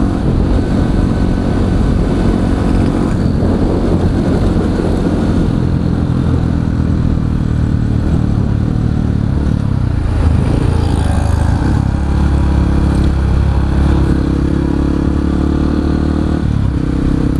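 A Honda WR155R supermoto with a stock ECU, supermoto wheelset and 53-tooth gearing runs at top speed, giving a loud, continuous engine drone mixed with rushing wind roar throughout.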